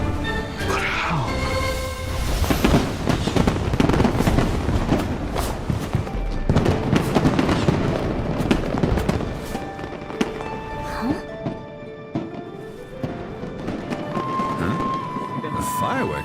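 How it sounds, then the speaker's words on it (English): Fireworks show in the video game Genshin Impact pops and booms in dense bursts throughout, with crackling and rumbling layers and scattered whistling tones, as a voice talks over part of it. "Fireworks show?"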